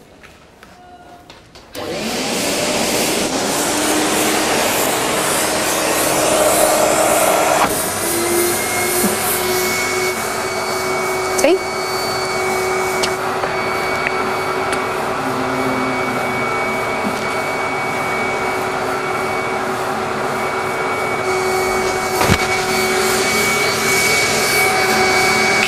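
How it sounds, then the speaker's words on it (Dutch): A vacuum cleaner switches on and pulls air from under a large suction cup, a loud steady roaring whine with a few brief knocks and shifts in pitch as it holds. "Bij deze zuignap zuigt de stofzuiger de lucht onder de zuignap vandaan."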